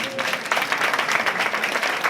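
An audience breaks into applause at a public talk with Gonzalo Boye, a brief, dense burst of many hands clapping at steady loudness, with faint voices mixed underneath.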